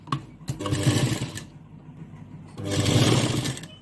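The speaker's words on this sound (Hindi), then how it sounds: "अब हमें यहाँ पर सिलाई लगानी है।" A sewing machine stitching a mirror work blouse, running steadily in two close, loud bursts of rapid whirring and needle chatter with a brief slower stretch between them, no talk.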